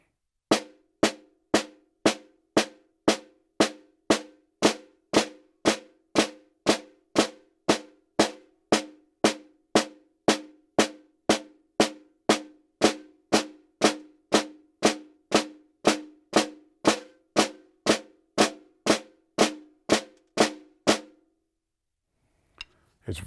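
Snare drum exercise played with alternating flams, right to left: an even, steady stream of crisp, close strikes, each with a short ringing tail, running unbroken for about twenty seconds before stopping into silence.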